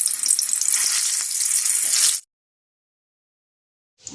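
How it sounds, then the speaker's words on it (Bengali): Soybean sausages sizzle in hot oil in a wok, a loud, hissing frying sound for about two seconds that cuts off abruptly into silence before a faint return at the end. "কড়াইতে তেল গরম করতে দিয়ে দিয়েছি, তেল গরম হয়ে গেছে। আমি এবার সসেস ভেজে নেব।"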